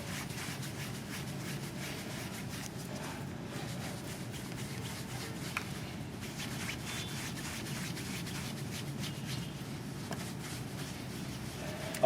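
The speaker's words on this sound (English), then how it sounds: "again in a circular motion to rub it off" Rubbing a sealant formula into a car's painted surface by hand in circular motions during a QMI Products demonstration, a steady continuous scrubbing friction that holds at an even level throughout, with no voices.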